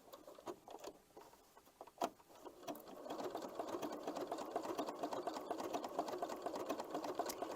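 A sewing machine stitches a 2.5-wide, 2.5-long zigzag blanket stitch in gray thread on tulip applique: a few isolated clicks first, then a steady close whirring hum that runs to the end without talk.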